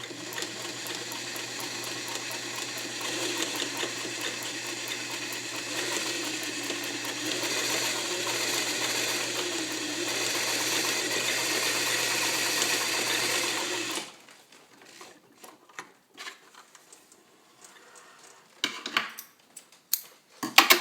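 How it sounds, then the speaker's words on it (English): Vintage all-steel Singer Fashion Mate 237 sewing machine zigzag stitching at a short stitch length, running in a steady fast rattling whir for about fourteen seconds, then stopping, followed by scattered handling clicks. "now I'm giving a demonstration of zigzagging, but with a shorter stitch length"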